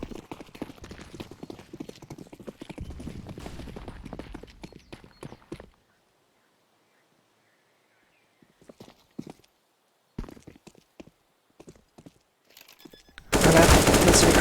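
Gunfire in a Counter-Strike match on the Inferno map, rapid dense bursts of shots and clatter, a long silent gap, then scattered sharp shots and a loud sustained burst of fire at the end.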